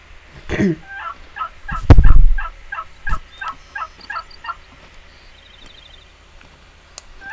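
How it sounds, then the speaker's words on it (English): A wild turkey gobbles in rapid repeated bursts in The Hunter: Call of the Wild, loud and close, with a heavy thump and a sharp crack early on before the calls trail off. "There's a bird going crazy."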